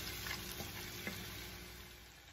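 Chopped tomatoes and cashews cooking in a pan over a medium flame, a faint, even sizzle with a couple of soft stirring taps.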